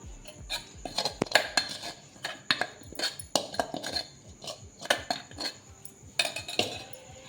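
Rice flour tipped into a pan for steamed modak dough, heard as a run of metallic scraping and clinking of utensil against the pan, close and irregular with short bursts and pauses.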